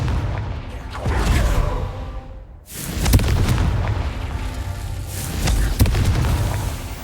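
Fiery Confringo blast spells from Hogwarts Legacy, the Merlin trials in a mine, erupting as loud booming bursts, one before a brief lull near three seconds, then rolling continuous rumble with sharp cracks around five to six seconds.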